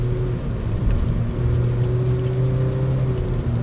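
A Ford Ranger Wildtrak 2.0T pickup with 10-speed automatic accelerates on a Malaysian highway, a steady, close engine hum and rising drone with road and wind noise throughout, no talk.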